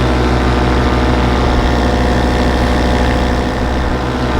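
An Atom 80 aircraft engine runs smoothly in flight, a steady, loud, continuous drone with an even propeller hum and no speech over it.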